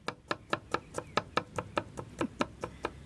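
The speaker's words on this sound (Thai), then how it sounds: "เสียเวลาหั่นผักหน่อยแค่นั้นเอง" Steady, regular knife strokes chopping vegetables on a cutting board, about four cuts per second, close and crisp with no talking.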